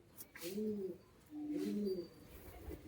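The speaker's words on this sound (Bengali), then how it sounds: "সব কিন্তু গরমে ওড়ানোর পায়রা রয়েছে গিরেবাজ পায়রা" Giribaz pigeons, a high-flying breed kept for summer flying and for sale, give two soft, low coos close by, with brief rustling and quiet gaps between them.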